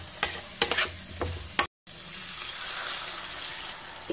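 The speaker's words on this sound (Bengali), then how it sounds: "এক মিনিট মতন একটু কষিয়ে নেব" Potatoes tossed in spice paste in a hot pan, several sharp clatters and scrapes from the stirring early on, then a brief silence and a low, steady sizzle.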